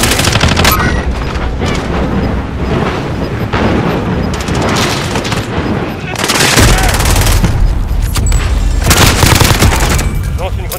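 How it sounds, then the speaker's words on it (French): Loud, chaotic combat in the Warzone video game, a stun grenade blast amid dense bursts of gunfire and booms over about ten seconds, with a voice speaking underneath. "Une grenade paralysante."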